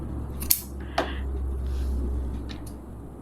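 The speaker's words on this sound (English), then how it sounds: "let's just snip this away" Sewing scissors snip away excess stretch fabric during a simple garment alteration, giving two quick, close cuts over a quiet room hum.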